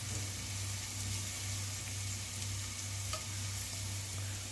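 Onions sautéing in a pan for a drumstick-leaf and coconut-milk soup, a soft continuous sizzle under a low steady hum, with a faint stir click, moderately quiet and close.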